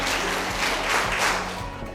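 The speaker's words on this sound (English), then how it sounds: "5 claps for Michael the movie star." An audience at an annual event applauds a guest called Michael, giving a loud, close burst of clapping that swells and holds for a couple of seconds with no separate claps standing out.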